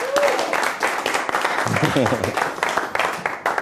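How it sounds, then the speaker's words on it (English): Audience applause at a live show as a volunteer walks on stage, a sustained patter of clapping running beneath a host and others talking throughout. "Alyssa, let's give Alyssa a big round of applause as she comes up here."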